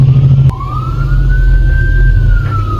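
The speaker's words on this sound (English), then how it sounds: "Do you guys hear the sirens?" A loud siren wails with a slowly rising and falling pitch over steady low traffic rumble, close and continuous.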